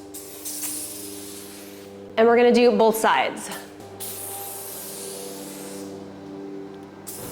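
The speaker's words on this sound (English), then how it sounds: "Next, we're going to spray along the top here of this belt assembly." A short, sharp hiss of aerosol lubricant sprayed onto the belt assembly of a garage door opener, lasting about a second, framed by someone talking before and after.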